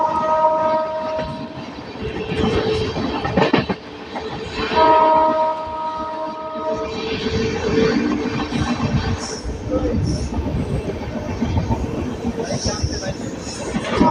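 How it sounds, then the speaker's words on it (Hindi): An Amrit Bharat express train overtaking a Patna–Pandit Deen Dayal Upadhyaya MEMU passenger train rumbles steadily throughout, with long horn blasts near the start and again mid-pass, wheel clatter beneath, and voices talking over it. "Overtaking Patna Pandit Deendayal Upadhyay memo."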